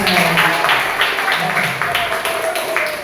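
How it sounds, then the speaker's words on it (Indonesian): Children in a classroom clap together during a religious lesson, bursts of applause that rise and fade under a busy room tone. "tepuk tangan."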